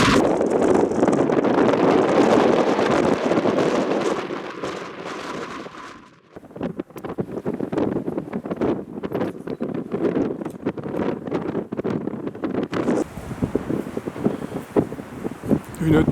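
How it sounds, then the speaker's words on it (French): Strong gusting wind buffets the microphone outdoors in the Cévennes, Lozère, a loud roaring rumble that surges and drops, with rustling and faint voices mixed in. "Aujourd'hui, il fait beau, mais par contre, le vent est phénoménal."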